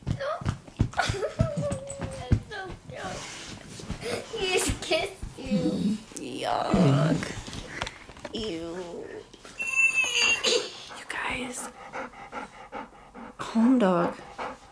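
A dog pants rapidly and whimpers indoors at close range, breathy bursts alternating with high whines, while people talk and someone speaks over it.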